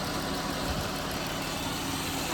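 Steady, low rumbling idle of a car engine that is overheating, heard up close during work on its cooling system, with a constant drone and no other sounds.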